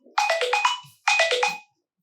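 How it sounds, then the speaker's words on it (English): A phone ringtone sounds as two identical bursts of a bright, stepped melodic chime, each about half a second long, with a short gap between them. The phone rings during a family podcast, and no voices are heard. "That was my phone"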